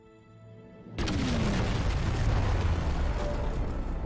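A sudden explosion erupts in a Power Rangers Dino Fury episode, a loud boom after a quiet musical lead-in, followed by a sustained roaring rumble of debris and fire.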